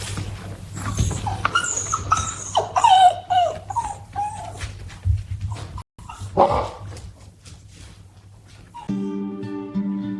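Dogs react to a rug printed with an optical-illusion hole, giving whimpers, yips and scattered barks that come in bursts, with a steady low hum beneath and a tonal patch near the end.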